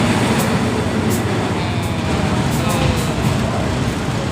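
Train pulling out of Hua Lamphong station in Bangkok, a continuous broadband rumble of the rail carriage in motion, steady and fairly loud throughout.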